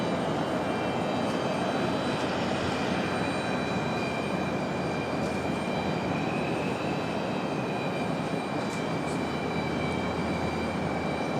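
A Boeing 737-900 on approach into Raleigh-Durham International Airport roars steadily, a broad, continuous jet rumble that stays loud and close throughout with no voices over it.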